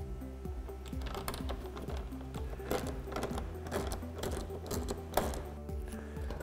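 Windshield mounting bolts come off a Polaris RZR with a ratcheting tool, giving rapid close clicking and whirring in dense, irregular bursts over a steady low hum, with no speech.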